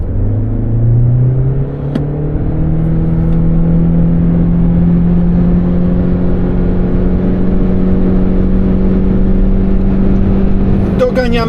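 A Toyota C-HR 2.0 hybrid 4x4 cruises with a steady engine drone that climbs slowly in pitch, mixed with a constant rush of wind and road noise from inside the cabin.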